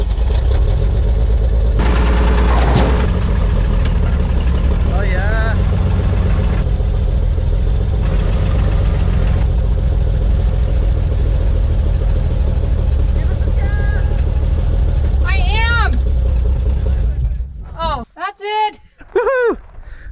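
A Chevrolet World War 2 truck that sat in a barn for decades runs with a loud, steady engine rumble under conversation, then cuts out near the end, leaving quiet broken only by voices.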